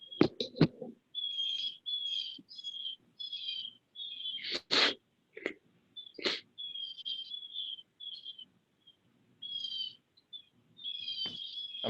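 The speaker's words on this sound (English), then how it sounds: "I'm hearing birds again, Sean." Small birds outdoors chirp and tweet in short repeated bursts during a Zoom call, picked up by a participant's open microphone, fairly close with brief gaps and a few sharp clicks between calls.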